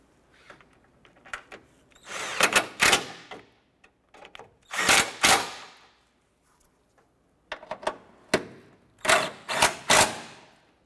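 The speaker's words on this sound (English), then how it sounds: "Let's go ahead and tighten those down." Power tool, likely a cordless driver, tightening throttle body bolts on a 2006-2013 Chevrolet Impala, in several close whirring bursts of about a second each, separated by short quiet gaps, with no talking.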